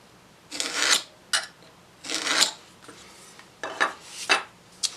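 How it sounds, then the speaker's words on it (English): A pull saw cutting a groove in wood during a storage cabinet build, giving bursts of rasping strokes with short pauses between them, close and clear. "I'll saw through here with my pull saw"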